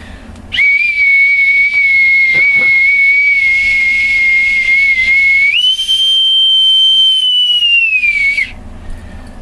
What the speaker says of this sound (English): Let me formally pipe aboard my co-host and mentor with my authentic bosun's whistle